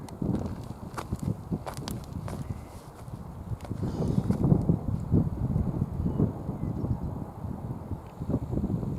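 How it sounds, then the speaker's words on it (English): Wind buffets the microphone outdoors at the Belfast port in uneven, gusty rumbles, with scattered bumps and rustles and no talking. "And there is a bit of a wind."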